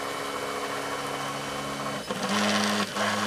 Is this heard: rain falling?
no